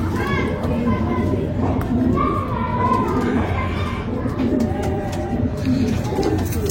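A male desi pigeon of the Sambhal breed, held in hand, coos softly amid steady background chatter and children's voices, with people talking nearby throughout.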